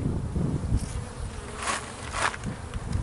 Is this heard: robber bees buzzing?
yes